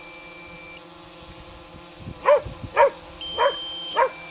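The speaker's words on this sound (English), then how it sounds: "You're a crazy dog." A dog barks four times in a steady sequence, each bark close and loud over a quiet indoor background with a faint steady tone, no talking.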